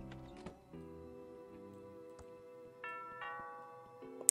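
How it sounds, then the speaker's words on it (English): A doorbell rings in the Thimbleweed Park adventure game, heard as soft, clear chime tones layered over quiet background music, with a few brighter notes partway through and no talk. "let's go see who is ringing the bell"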